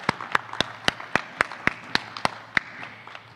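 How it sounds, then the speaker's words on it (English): Applause at a Teaching Academy graduation ceremony, heard as a regular run of sharp, close single claps over a low steady hum, fading slightly toward the end. "A round of applause for the Humanities and Arts and Humanities"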